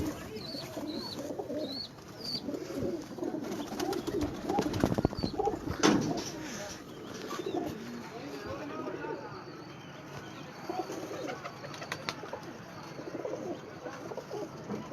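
Pigeons coo softly in low, repeated bursts, with a flurry of wing flapping in the middle and light bird chatter around them.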